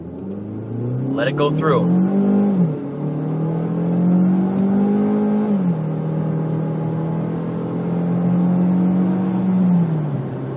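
A Ford Focus or Fiesta with a Powershift transmission pulls away from a stop at full throttle, the engine note rising and dropping through several gear changes while someone speaks briefly over it near the start.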